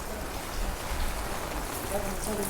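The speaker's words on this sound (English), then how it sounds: "Just look at this rain here, there's water pouring down that street there, Albert Road." Heavy rain pours down a town street in Blackpool, with water running along the road, making a steady, close, dense hiss that holds an even level throughout.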